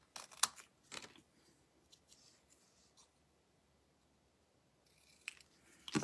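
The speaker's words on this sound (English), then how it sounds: "And then I'm going to get my fancy scissors. And all I have to do is kind of rough cut this out." Fancy scissors rough-cut paper in a craft session with a few quiet, crisp snips at the start, a near-silent pause, then more snips at the end, close and soft.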